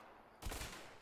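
A shotgun fires once in a video game: a single sharp, close blast that trails off into a brief decay, with no voices.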